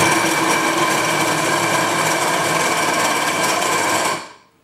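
Cordless drill cutting a hole in a scooter deck, a loud, steady, close grinding whine that runs unbroken before cutting off abruptly near the end.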